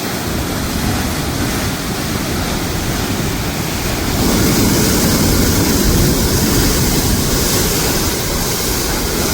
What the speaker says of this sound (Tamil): தண்ணிஇந்த சத்தத்தை பாருங்க